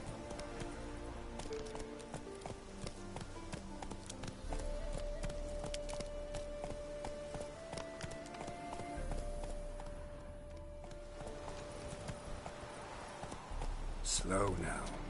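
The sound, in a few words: horse Roach galloping hooves, from a video game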